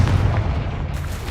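A Confringo fire spell explodes in Hogwarts Legacy, a loud, deep booming blast with a rumbling tail, brief and close.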